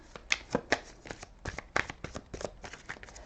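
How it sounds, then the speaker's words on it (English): Cards being shuffled by hand nearby, a quick run of crisp flicks and riffles with uneven rhythm, fairly quiet. "let me shuffle a little bit more"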